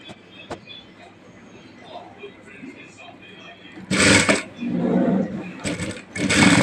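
A sewing machine stitches a puffy sleeve, starting with a quiet stretch, then three loud bursts of rapid running at close range, with a voice talking in the background.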